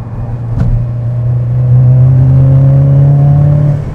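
A 2005 Saab 9-3 Vector's engine pulls under acceleration as turbo boost builds, a steady rising drone heard loud from inside the car, with no talking.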